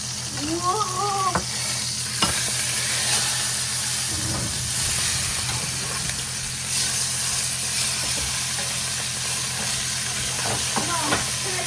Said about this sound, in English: So now that the pork loin is seared on all sides